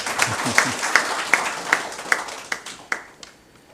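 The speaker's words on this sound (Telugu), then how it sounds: "మిత్రులు ఆంజనేయులు గారికి చప్పట్లతో ధన్యవాదాలు చేద్దాం." A small audience at a Vedic knowledge society gathering claps in a steady, slightly uneven rhythm, individual hand claps distinct and close, tapering off and fading out toward the end.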